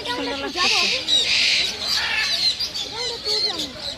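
Harsh bird squawks and chirps repeat throughout at Riyadh Zoo, fairly close, with people talking underneath.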